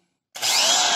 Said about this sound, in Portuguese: Pessoal, tô com a furadeira aqui. Vou usar essa broca 3.